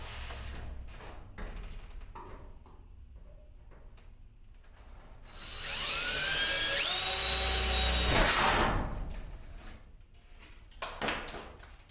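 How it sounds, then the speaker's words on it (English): Power drill boring a pilot hole through the back side of a garage door for a quick release lock, a loud whining burst of about three seconds with pitch shifts as the bit bites, set between quieter handling noises. "I'm just going to drill my pilot hole here through the back side of the door"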